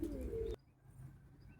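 Pigeons coo in a cage while a foster pigeon feeds squabs, a short, close, low burst lasting about half a second before dropping to quiet background hiss.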